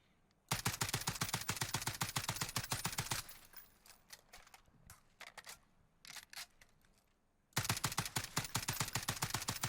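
FAL rifle fire aimed at targets in Warzone: a rapid burst of evenly spaced loud shots, then slower irregular single shots, then another fast sustained burst, close and sharp with no talk.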